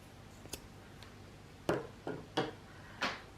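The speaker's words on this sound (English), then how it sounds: "The first thing I'm going to do is cut the clothesline." Scissors snip through cotton clothesline close to the edge during crochet basket making, giving a few sharp, distinct cuts spaced about half a second apart at close range in an otherwise quiet room.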